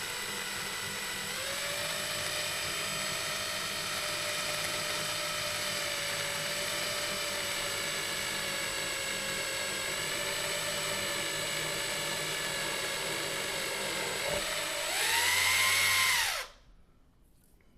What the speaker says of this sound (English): I'm going to start with the tinier drill